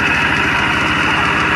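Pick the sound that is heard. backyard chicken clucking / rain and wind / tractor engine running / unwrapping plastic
tractor engine running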